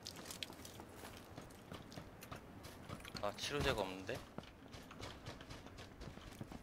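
Footsteps in PUBG, faint rhythmic steps growing briefly louder near the middle, heard under players talking.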